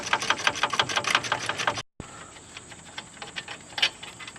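An 18mm bolt is being backed out of a Chevrolet TrailBlazer wheel hub during a wheel bearing replacement, likely with a ratchet or impact tool, giving rapid, even metallic ticking and clicking that runs steadily, with a brief gap partway through.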